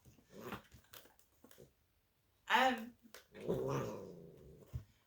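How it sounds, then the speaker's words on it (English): Cats growl and hiss in short snarling outbursts, fairly close, with a brief pause between scuffles and a person speaking faintly. "the cats are scrapping with each other"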